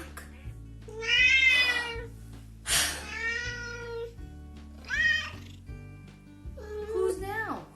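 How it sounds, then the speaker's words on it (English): A cat meows several times in drawn-out, wavering cries over a simple plucked backing melody in a children's farm animal sound game. "The cat. Shh, cat. Shh, cat."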